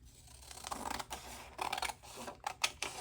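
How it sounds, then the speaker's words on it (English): Scissors snip through paper while a pink rose-themed junk journal is trimmed by hand, a run of close, crisp cuts and rustles with uneven pauses, ending in a few sharper snips. "And cut this off."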